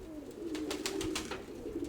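Pigeons coo softly in a series of low, throaty calls, several overlapping notes in a loose rhythm over a quiet background, fairly close but gentle.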